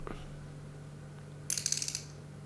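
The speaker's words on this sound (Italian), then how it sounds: "questo è il rumore della frizione quando viene chiuso" An Okuma Inspira ISX 20 fishing reel's drag gives a quick burst of rapid ratcheting clicks for about half a second, close up, against a low steady hum.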